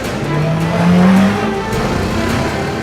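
A nearby Bajaj Dominar 400 motorcycle engine revs up and settles, a loud throaty surge held briefly at higher speed.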